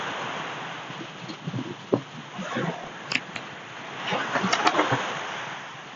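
Ocean waves wash up on a sandy beach, soft rolling surf with gusts of wind noise across the microphone, swelling toward the end.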